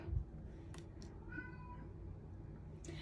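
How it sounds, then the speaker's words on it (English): A tabby cat lets out a single soft, fairly distant meow in the middle of a quiet room, with no one talking. "Also have a tabby cat that's very verbal."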